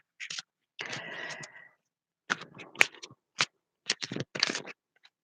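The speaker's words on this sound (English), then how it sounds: "bear with me as I shuffle the cards" Tarot cards are shuffled up close in quiet, separate bursts of riffling and slapping, with short silent gaps between the handfuls.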